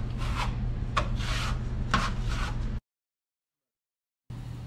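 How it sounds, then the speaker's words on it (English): A trowel scrapes and rubs drywall compound onto a wall in a series of rough, rhythmic strokes over a steady low hum, then a sudden cut to silence before the scraping resumes. "I'm applying the second coat of mud now."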